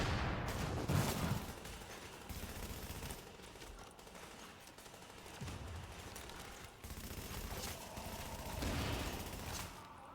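Sustained gunfire in the shooter video game The Division, dense overlapping shots and bursts rolling on for several seconds at moderate loudness, no talk.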